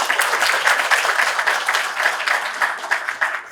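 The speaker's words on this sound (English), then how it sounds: "Can we clap for the graduates?" Sustained applause from a crowd for graduates at a launch event, steady dense clapping that holds at an even level throughout with no voices standing out.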